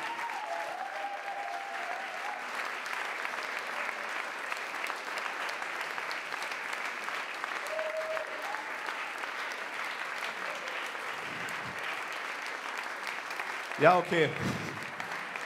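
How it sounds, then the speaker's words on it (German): A bar audience at a poetry and jazz slam claps steadily and continuously, a dense even patter of many hands, while a host speaks briefly near the end. "Also ich find's gut, dass ihr weiter klatscht."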